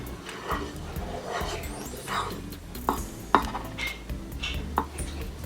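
Fried red onion being stirred into Pad Thai sauce in a pan, with utensil scrapes and clinks repeating in an uneven rhythm over a steady kitchen background, with a dog whimpering and yipping faintly nearby.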